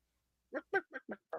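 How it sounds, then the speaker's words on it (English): A chicken clucking in a quick burst of five short, clear clucks, close and alone against silence. "Do I hear clucking? Did someone bring a chicken in"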